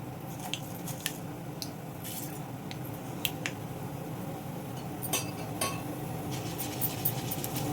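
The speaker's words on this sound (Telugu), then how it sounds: "ఇదిగోండి ఆవాలు చిట్టుపట్లు ఆడుతున్నాయి కదా" Mustard seeds splutter and pop in hot tempering oil in a pan, with scattered sharp crackles rising over a steady low sizzle, close and moderately quiet.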